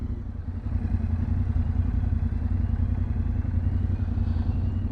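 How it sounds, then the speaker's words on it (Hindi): Motorcycles passing at a Mexico border crossing, a continuous low engine rumble with some clatter, fairly loud and steady throughout with no talking. "वो देखें ना, यूँ निकल जाते हैं जो मोटरसाइकिल पे हैं।"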